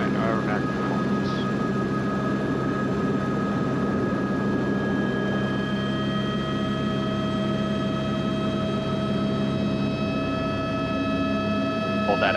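Helicopter in flight during a training lesson: a steady, droning cabin hum with sustained whining engine and rotor tones, constant and close throughout, with faint intercom voices underneath.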